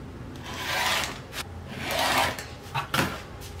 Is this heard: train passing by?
no